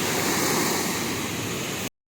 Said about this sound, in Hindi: सिर्फ 5-6 फाटक खुला हुआ है अभी, तब इतना पानी का फ्लो है